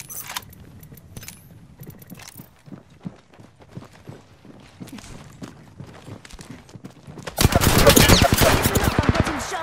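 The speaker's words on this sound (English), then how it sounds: "I'm getting shot at." Video game gunfire in a shooter match with the 99 and PK weapons, heard as scattered rapid clicks and pops before a loud, dense burst of sustained automatic fire over the final two seconds, with no speech.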